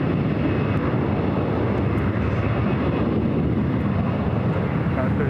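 Heavy jet airliners roll out on takeoff from the north side of LAX, a steady, loud broadband engine roar that stays constant throughout, with wind rumble on the microphone.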